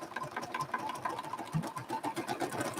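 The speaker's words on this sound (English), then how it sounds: "since I'll finish sewing down that grass" A sewing machine stitching down the grass on an undersea landscape quilt, a fast steady mechanical whir and needle patter running continuously at close range.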